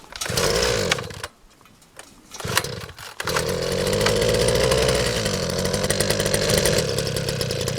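A small Eskimo gas ice auger engine revs loudly and steadily, drops to a brief idle with a pause, then roars back up and runs continuously, close by.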